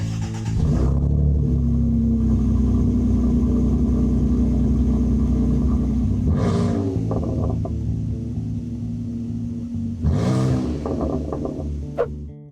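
A 2025 Nissan Frontier Pro-4X with its stock exhaust starts up close by and settles into a steady idle, then the throttle is blipped twice, with two sharp revs rising and falling over the idle.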